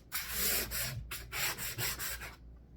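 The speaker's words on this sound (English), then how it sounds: "So run your sander along the edge" Sanding drywall joint compound along the edge of taped seams in a crack repair: close, dry scratchy strokes in a quick rhythmic run of about six passes, then silence.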